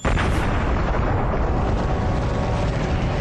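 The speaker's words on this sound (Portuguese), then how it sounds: "nosso universo começou há uns 14 bilhões de anos com uma explosão muito violenta" A huge, violent explosion marks the Big Bang, a dense roaring blast that holds loud and unbroken from start to end, with no voices over it.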